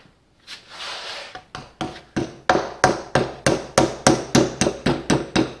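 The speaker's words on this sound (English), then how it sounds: "Where's the hammer?" Hammer blows ring out close by, about a dozen sharp, loud strikes falling into a steady, quickening rhythm after a brief hiss, while installing a front wheel bearing on a Mercedes W124.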